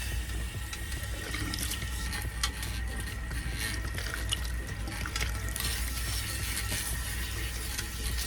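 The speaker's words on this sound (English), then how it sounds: "I'm literally just rinsing it and pulling through with my hands" Tap water runs steadily into a sink while protein treatment is rinsed out of hair worked through by hand, a continuous close splashing wash with faint drips.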